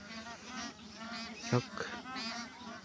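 A huge flock of two to three thousand ducks honks and quacks in overlapping calls, heard from a passing motorbike, fairly faint and distant with a short louder burst midway and a voice briefly speaking.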